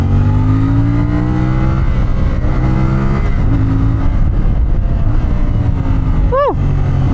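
A 2024 CF Moto 450MT motorcycle engine runs loud and close, its pitch sweeping up and down through several throttle blips, ending with a sharp rising rev and drop.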